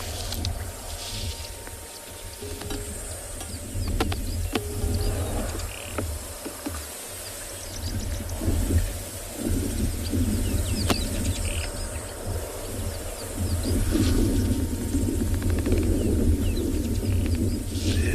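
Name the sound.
birds calling at sunset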